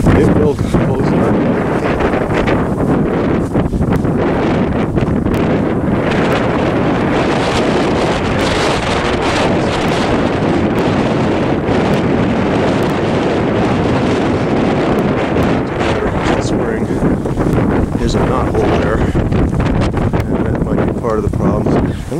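Steady, heavy wind from Blizzard Nemo in Central New York roars and buffets the microphone throughout, a constant rushing noise with no letup.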